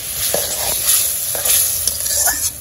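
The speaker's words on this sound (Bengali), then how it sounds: "আর কষিয়ে নেব, কাঁচামরিচ দিয়ে দিলাম।" Spices and green chillies are sautéed in a pan with a loud, close sizzle broken by repeated scraping strokes of a spoon at an uneven rhythm.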